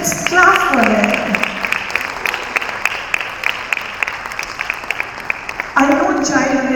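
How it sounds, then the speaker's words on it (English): Audience applause honouring mothers at a large community event, a steady run of crowd clapping between stretches of a speaker's amplified voice at the start and end. "Let's clap for them."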